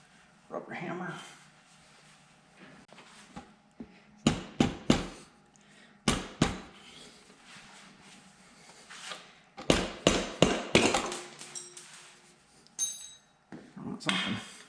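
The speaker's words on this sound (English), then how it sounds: "Rubber hammer." A rubber hammer striking engine parts while a motorcycle engine is taken apart, several sharp impacts in short clusters between quieter workshop handling noises, close by.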